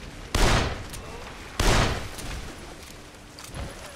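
Two heavy revolver shots ring out in Dead Island: Riptide, each a sharp, loud crack followed by a brief decaying echo, spaced about a second apart, with a fainter third report near the end.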